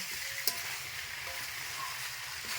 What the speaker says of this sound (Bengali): এখন এটা আলু দিয়ে কষাতে হবে